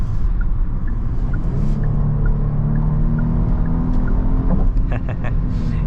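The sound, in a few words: Genesis GV80 3.5 engine accelerating in sport mode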